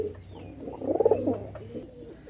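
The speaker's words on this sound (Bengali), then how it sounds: "বিয়ার্স একজোড়া পাকিস্তানি রামপুরি কবুতার দেখেন" A pair of Pakistani Rampuri pigeons cooing close by, soft rolling coos rising in the middle of the stretch over a low steady background.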